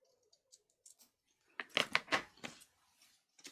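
Scissors trim paper for a handmade wildflower folio journal: a few light snips at first, then a quick close run of crisp cutting crunches, with a last small snip at the end and no talk over it.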